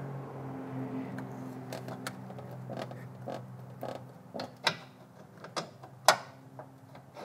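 On a Silverado truck, an AC condenser line connection is worked loose with a series of clicks, creaks and scraping metal knocks. The sounds are close and irregular and grow sharper toward the end.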